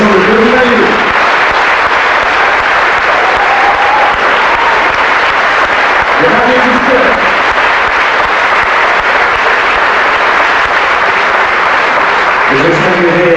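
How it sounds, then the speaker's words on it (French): A theatre audience at a music-hall anniversary show gives the Varieties Club orchestra loud, sustained applause, a dense and even roar of clapping that lasts the whole stretch, with brief bits of voice showing through. "je vais vous demander d'applaudir très très fort notre orchestre, le Varieties Club"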